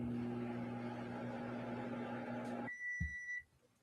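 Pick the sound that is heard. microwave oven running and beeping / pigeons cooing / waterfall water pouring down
microwave oven running and beeping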